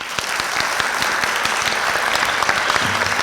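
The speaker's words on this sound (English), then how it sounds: "Please give a nice round of applause for our very own Mrs." Applause from an audience at a formal school assembly at Washington High School, dense and steady throughout, filling the hall with continuous clapping at fairly loud level.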